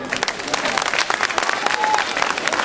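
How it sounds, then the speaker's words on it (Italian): A crowd at I Veneti a Cerea gives a round of applause for Taxus, a busy, even clatter of many hands, fairly close and loud throughout. "Quindi voglio sentire un applauso per Taxus"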